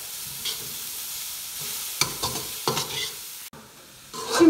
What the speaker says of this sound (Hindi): अब इसके बीच डालेंगे बंद गोभी, इसको थोड़ा सा फ्राई कर लें